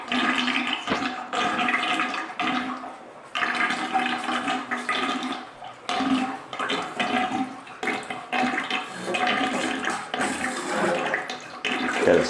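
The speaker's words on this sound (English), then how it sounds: "Gotta stir it to keep the mud so that it goes down the drain." Muddy bath water drains from a tub in gurgling, sloshing bursts, with close, irregular swirls of water and short pauses between surges.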